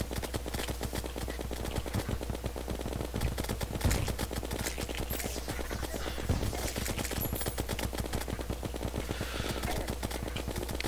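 Minishark gun in Terraria firing a fast, steady stream of rapid shots, loud and continuous throughout with a low constant hum underneath.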